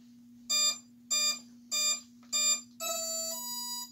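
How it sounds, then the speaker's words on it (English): Radio-controlled F-15 model jet arming after being plugged in: four short evenly spaced electronic beeps followed by a longer sustained tone, over a steady low hum. "Okay, so that sound is the international symbol for your plane is armed and ready."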